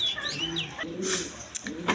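Red Rajgolla pigeons cooing close by, soft repeated coos with a few brief chirpy calls over faint background noise.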